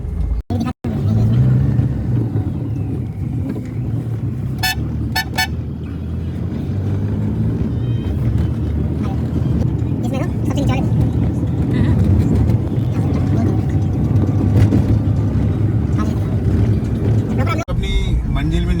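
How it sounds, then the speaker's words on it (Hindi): Engine drone and road rumble fill the cabin of a moving Tata Nano, a steady low hum under continuous close talking, with a couple of brief knocks and clicks. "तो फिलहाल हम लोग नैनो में जा रहे हैं।"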